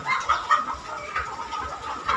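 Chickens cluck and squawk in a steady agitated chorus while they are caught in the evening on a farm. A few sharper calls rise above a low background of shuffling.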